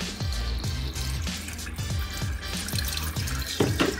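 Tap water runs steadily into a pot to cook instant noodles, a continuous close splashing stream with a few soft knocks and a brief louder gush near the end.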